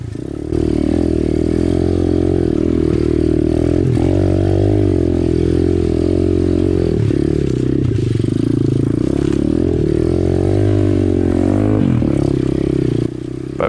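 Apollo RFZ 125cc pit bike climbing uphill on single track enduro trails, its engine droning loud and close without a break, pitch rising and falling as the throttle works, with some scraping clatter.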